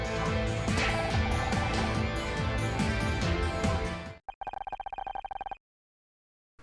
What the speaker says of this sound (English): I hear you still get a phone call in prison.